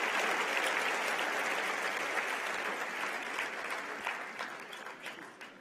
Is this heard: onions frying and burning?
no